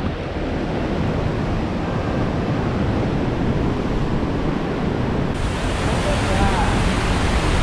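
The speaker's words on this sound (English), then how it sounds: "You want to see how much power the ocean has?" Powerful ocean surf surges and roars steadily into a sea cave at an Oregon cove, a dense, continuous wash of water with wind noise buffeting the microphone and no pauses.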